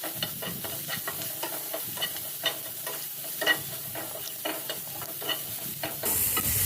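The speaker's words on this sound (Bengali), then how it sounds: "ইলিশ মাছ কিন্তু আজকে সরিষার তেল দিয়ে রান্না করবো" Hilsa fish frying and being stirred in mustard oil with onion and green chili, a steady close sizzle broken by repeated scraping stir strokes, with no talking.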